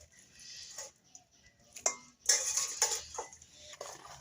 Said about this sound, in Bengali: আমি প্রথমে কড়াইটা নিয়ে নিয়েছি, আমি এবার মাংসটা তুলে নিচ্ছি।